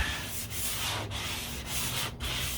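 Steady abrasive sanding of primer on the deck lid of a 1969 C3 Corvette, a continuous close scratchy rub with brief pauses between strokes, no talking.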